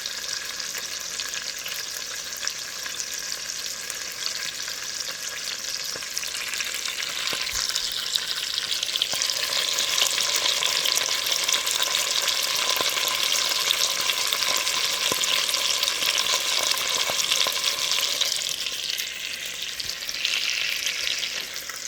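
Butter sizzles and fries steadily in a pan as a dense, continuous hiss that swells louder midway and holds, with no voices over it.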